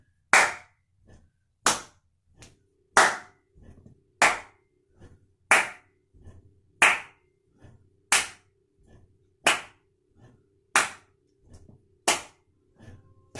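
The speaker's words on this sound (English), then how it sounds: "Throwing in that clap." Sharp hand claps from a cardio workout class, landing roughly every 1.3 seconds in a steady beat, each one loud and close, with faint footsteps or movement heard between them.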